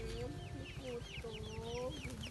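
Chickens at a church sanctuary feeding area cluck and call repeatedly, with rooster-like squawks and chirping birds overlapping in a steady, busy chorus close by.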